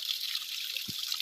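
Water pours nonstop from a borewell that has been flowing around the clock for over a month, a soft, even hiss with one brief low splash near the end.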